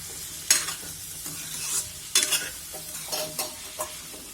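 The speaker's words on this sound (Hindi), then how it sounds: "अब इसमें जो राजमा हमने उबाल के रखा था उसको डालते हैं। अच्छे से डाल करके इनको चला लेंगे।" Boiled kidney beans are stirred into spices fried in oil in a pan, making soft, intermittent scraping and squelching bursts over a low sizzle.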